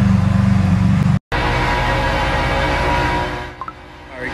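A car engine runs loudly and close by with a steady low rumble. After a brief cutout it carries on and then fades as the car pulls away, leaving a couple of faint knocks near the end.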